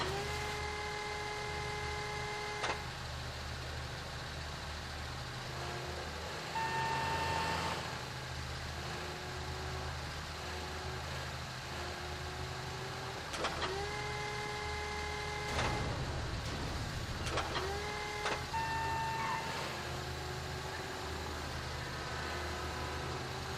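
Container handler vehicle in GTA V lifting a shipping container, a steady engine drone with rising and falling whines as the lift moves, plus occasional clanks, heard alone without talk.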